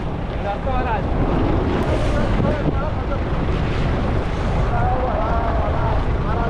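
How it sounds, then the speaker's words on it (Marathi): Strong wind roars and buffets against a constant rumble of a fishing boat out at sea and rushing waves, loud and continuous from start to finish. "आणि वारा जास्त सुटलाय"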